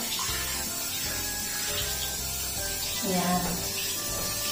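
Warm water runs steadily from a tap during a dog's bath, a continuous close splashing flow with a brief gurgle near the end.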